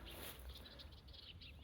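Birds chirp softly and steadily in a quiet rural field, a faint continuous outdoor chorus with no other activity nearby.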